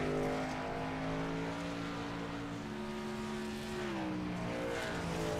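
Racing truck engine on a dirt track, a loud continuous roar holding steady with a brief pitch dip as the throttle eases, heard close and alone.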